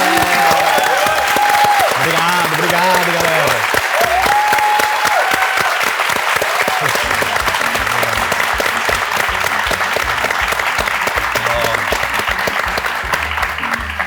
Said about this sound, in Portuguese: Queria pedir aí para todo mundo uma salva de palmas para os nossos convidados